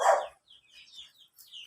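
A dog gives one sharp, fairly close bark, followed by fainter high yips and chirping sounds.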